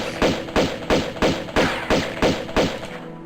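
Rapid pistol shots in Tomb Raider II Remastered, fired at a rat in the Opera House level, land as eight evenly spaced punchy thuds in about three seconds, loud and close with no voices.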